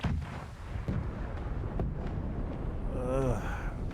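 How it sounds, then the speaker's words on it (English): Cannons fire and echo across the sea during a naval battle in a PC video game, with heavy booming rumbles and distant thuds over a dense, constant roar. "The distant thunder of cannons fire echoes across the sea."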